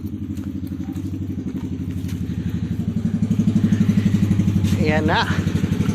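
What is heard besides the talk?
motorcycle engine running idle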